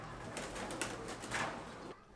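A blue barless racer pigeon coos at a fancy-pigeon farm in Rajshahi, a few soft murmuring calls close by against a low steady background.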